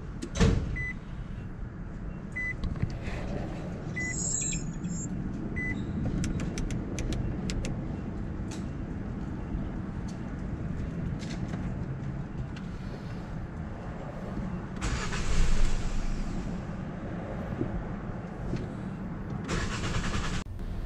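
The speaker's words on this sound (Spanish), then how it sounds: "al segundo intento duró mucho la marcha para encender el motor" A car engine cranks and tries to start after parts were disconnected and reconnected, with a long steady cranking drone and a rise in effort partway through, close and without speech.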